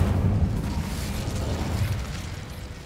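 Incendio fire spell erupting in Hogwarts Legacy, a sustained roaring, rumbling blast with deep booming body that stays loud and dense for several seconds with no pause.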